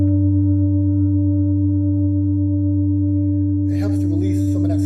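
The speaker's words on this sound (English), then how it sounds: "the sounds, the vibrations and tones and frequencies from a powerful Jupiter singing bowl" A Jupiter singing bowl rings with a loud, steady, sustained drone of layered tones, and a voice begins talking over it near the end.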